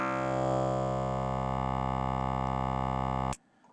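A Sequential Pro 3 synthesizer plays its formant wavetable as one sustained, buzzy, harmonically rich tone held at steady loudness for over three seconds before it cuts off abruptly.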